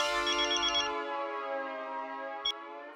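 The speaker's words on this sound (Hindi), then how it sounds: "अंजलि, मेरा एक फोन है जरूरी" A telephone rings with a steady electronic ringtone, loud and close, sustaining for the full stretch with a brief extra chirp near the end and no voices over it.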